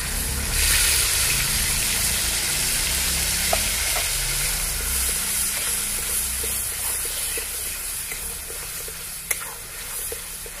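Ground paste of three tomatoes and four green chilies fries in hot oil for a vegetarian potato curry, a loud, dense, continuous sizzle and hiss with occasional faint stirring clicks, no talking.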